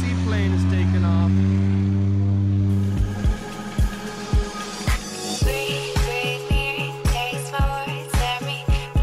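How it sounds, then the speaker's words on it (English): A seaplane on a lake holds a low droning propeller hum before a series of rhythmic thumping bursts as it picks up speed. A voice speaks over it. "Seaplane is taking off."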